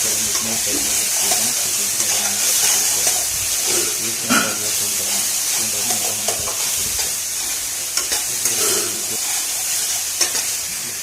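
Jackfruit mixture with ghee sizzles and hisses steadily in a pan while it is stirred, with scraping touches around 4 and 8 seconds; the frying noise stays fairly loud and continuous throughout.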